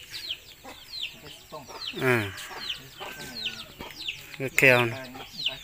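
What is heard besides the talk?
chickens clucking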